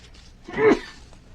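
A single short sneeze, a quick sharp burst at close range during quiet indoor paper and glue craft work on a no-sew journal.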